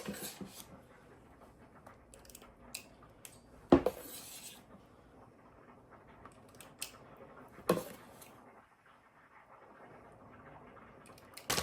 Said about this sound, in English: I'm going to use my little ice cream scooper for this